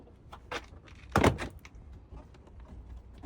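Plastic door panel clips popping loose on a 2010 Nissan Maxima S, one sharp loud crack with a few softer clicks and rustles around it, close by.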